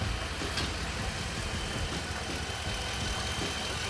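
A crash-damaged Ford F-250 pickup engine idling, a steady close rumble with a slight uneven knock, running alone without talk.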